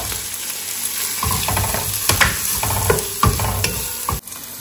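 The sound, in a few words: tomatoes and chopped green chillies added to a pan and stirred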